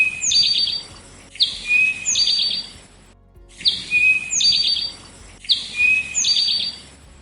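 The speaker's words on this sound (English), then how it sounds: "A good memory phrase for the eastern towhee is, "Drink your tea."" Eastern towhee singing its 'drink your tea' song, three clear phrases in a row, each an opening note or two followed by a bright trill, close and distinct over a faint background hum.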